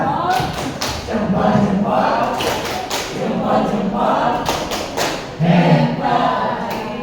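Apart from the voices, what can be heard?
group clapping rhythm (tepuk hebat clap chant)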